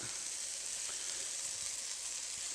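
Ground beef sizzling as it fries in a pot, broken into small pieces for stroganoff: a steady, even hiss and crackle at close range, with no talk.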